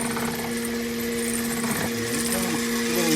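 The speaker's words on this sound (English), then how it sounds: "Then I'm going to engage the drill." A power drill reels in a backyard Halloween zip line cable over a pulley, a steady close mechanical whir with a sustained tonal hum that rises slightly in pitch and grows louder near the end.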